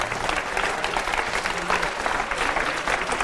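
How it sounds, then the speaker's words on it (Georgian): Sustained audience applause fills a studio at a televised quiz show celebrating a young prize winner, steady clapping throughout with a slight crowd murmur and no voice on top. "აპლოდისმენტები ამ კაცს"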